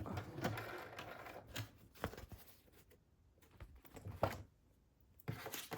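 A sewing machine stitches up the side of a wallpaper pocket on a junk journal page, faint short bursts of stitching broken by pauses and light handling sounds.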